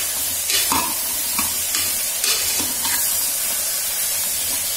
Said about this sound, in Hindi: गोभी सब्जी हमारी थोड़ी सी फ्राई हो गई है